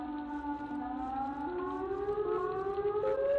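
A Siren Head creature's wailing siren in a horror video game, a loud sustained rising civil-defense-style tone with layered harmonics that glides upward in steps, heard alone without talk.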